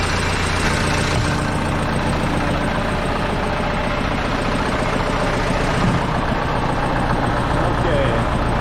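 A Case 188D diesel tractor engine idles steadily and loudly after being fired up, a continuous close rumble with no break.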